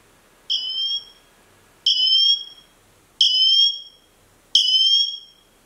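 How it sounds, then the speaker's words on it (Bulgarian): Apple Watch Ultra 2 emergency siren: four loud, piercing, high-pitched bursts, each about half a second long and evenly spaced with short silences between, sounding close and alone. "И това беше сирената."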